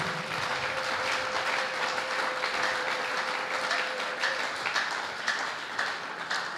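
A congregation at a church service breaks into sustained, even applause acclaiming Jesus, a broad wash of many hands with a faint steady tone running underneath.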